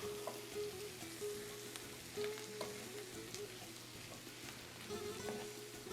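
Chopped cilantro being stirred into a Hatch green chile casserole, a steady low scraping and sizzling texture with soft intermittent clinks of a knife used as a stirrer, continuous and fairly quiet with no talking.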